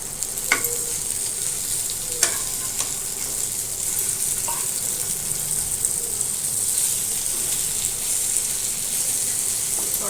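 Tol fish frying in a pan, flipped to cook the other side: a steady, close oily sizzle runs throughout, with a few sharp spatula clicks against the pan.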